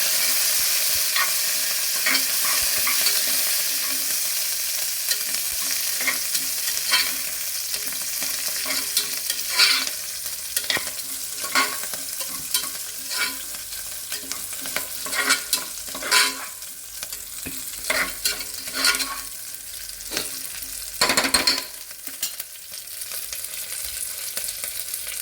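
Dried red chillies and curry leaves frying in hot oil for mango dal, a steady hiss broken by frequent sharp crackles and spatula clinks, with sizzling bursts toward the end.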